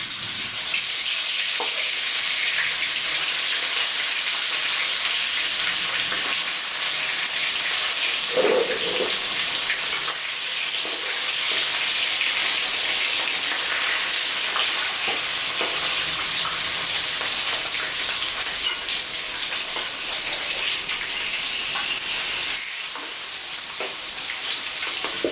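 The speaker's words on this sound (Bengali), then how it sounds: "তেলটা গরম হয়ে গেছে, আর মাছ ভাজাটা চাপিয়ে দেবো।" Fish frying in hot oil in a wok, a steady loud sizzle and hiss that runs unbroken throughout, with a few faint stirring clinks in between.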